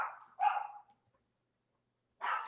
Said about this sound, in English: Dogs go crazy.